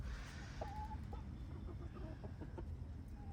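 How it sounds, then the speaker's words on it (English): Three backyard hens cluck in short, soft, scattered calls against steady outdoor background noise, with no talking. "Here's a quick look at our chickens. We are down to 3 hens."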